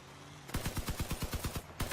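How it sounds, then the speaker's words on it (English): Vehicle-mounted guns in the Crossout game fire a rapid, even burst of loud shots, about a dozen evenly spaced reports in quick succession, with no talk. "At an angle though, I can fire all 4."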